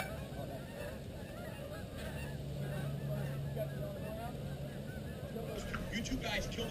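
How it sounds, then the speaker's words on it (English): Geese honk on a Long Island hunting outing after a pair land close by, their calls faint and scattered under steady outdoor wind and rumbling background noise. "2 geese landed right in front of me and Dustin."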